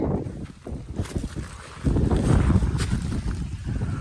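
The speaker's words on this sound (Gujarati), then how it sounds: "મિત્રો અત્યારે ફૂલ પવન આવે, આમ જોઈ શકો તમે." Strong gusts of wind sweep across open farmland, buffeting the microphone in uneven low rumbling bursts that build louder partway through and stay heavy to the end.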